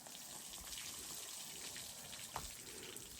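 Pony Bobo is hosed down with a steady spray of water that runs as a continuous broad hiss at moderate level, with a brief splash near the end.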